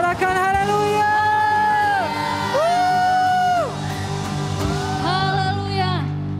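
Church congregation whooping and cheering hallelujah in loud, sustained waves of voices, with rising shouts over a steady crowd roar and a held tone underneath.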